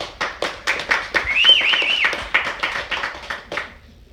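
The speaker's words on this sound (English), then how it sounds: "Everybody give Gabby and Xander a round of applause, please." A small audience gives a round of applause during a speech, with distinct, rhythmic individual claps close by, steady through about three and a half seconds before fading out.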